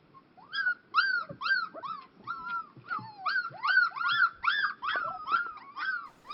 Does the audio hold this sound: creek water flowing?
no